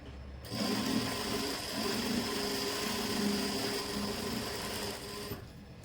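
A close sewing machine runs in one steady continuous burst of a few seconds, stitching elastic into the waistband of a pair of trousers, with no talk over it.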